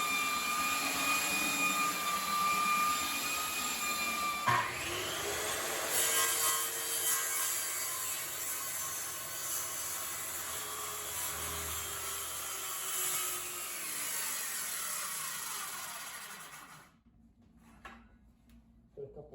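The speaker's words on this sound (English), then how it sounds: "the belt sander will clean it off" A belt sander grinds steadily across old wood with embedded nails in a kitchen renovation, a loud continuous whine with shifting pitch lasting most of the time before cutting off abruptly, leaving near silence.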